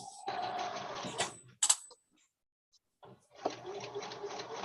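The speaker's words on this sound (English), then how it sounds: "if my sewing machine gets too loud, let me know, guys" A home sewing machine used for quilting runs in two whirring stretches, stopping briefly with a click and near-silence between them, fairly close and moderately quiet.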